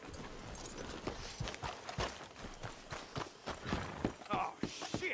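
Horses' hooves clip-clopping in Red Dead Redemption 2, a run of sharp irregular hoof strikes on hard ground at moderate distance, mixed with low game ambience and quiet talk.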